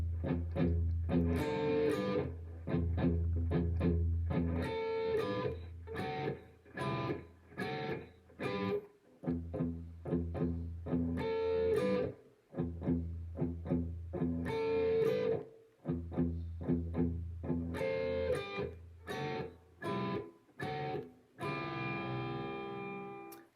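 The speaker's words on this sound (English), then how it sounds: "The second guitar player goes up and plays a high version of this riff" Distorted electric guitar plays a high version of a riff, with punchy chugged phrases broken by short rhythmic gaps and ending on a ringing held chord.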